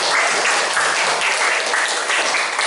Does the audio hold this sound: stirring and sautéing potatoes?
no